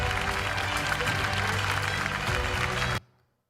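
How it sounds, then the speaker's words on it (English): Dense audience applause at a design summit and awards ceremony, steady and fairly close for about three seconds before it cuts off sharply into silence. "Can we have a big round of applause for her and her entire team,"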